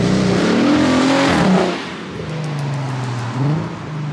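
A loud VW Passat revs hard near the listener, its engine climbing and falling in strong bursts for about a second and a half, then settling into a steadier, lower drone with another brief rise toward the end.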